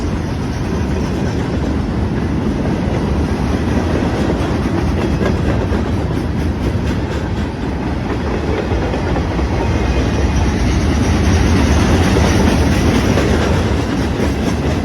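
A CSX M316-18 eastbound mixed freight train rumbles past nearby, steady heavy roar with rhythmic clanking of wheels over rail joints throughout.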